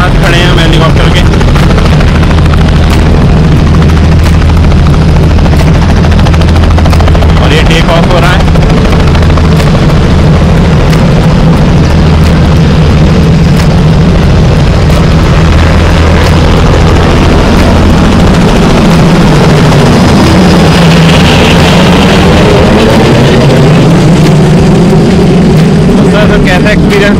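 A helicopter at a joyride event in Moradabad, heard from very close as a loud, constant engine roar and rotor thrum that overwhelms everything, with people talking beneath it.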